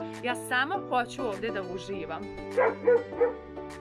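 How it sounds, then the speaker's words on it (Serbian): A dog barks and yips several times in the background while a person keeps talking over it. "onaj pas laje i deluje strašno."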